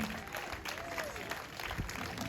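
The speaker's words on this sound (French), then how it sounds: "un grand applaudissement" Crowd applause at an outdoor public information meeting about a water problem, a steady wash of clapping from many people lasting the whole stretch, moderately loud with a few voices mixed in.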